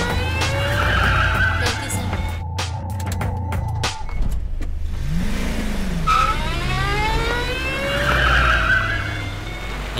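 Car driven recklessly, tires squealing in long rising and falling skids with engine noise, loud and close, interrupted briefly by a sharp clatter midway before the screeching resumes.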